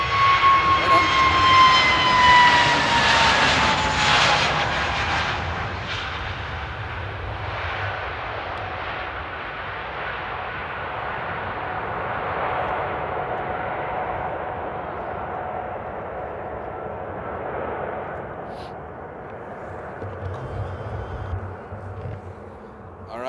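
A jet airliner takes off at Amsterdam airport, its engines roaring loudly at first with a rising whine, then fading into a long, distant rumble as it climbs away.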